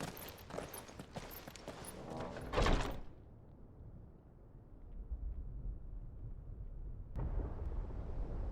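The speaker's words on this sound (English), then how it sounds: "Sounds like thunder." Thunder in Final Fantasy XVI, a loud rolling crash building through the first three seconds, then a long low rumble fading under quieter ambience, with a second sharp crack near the end.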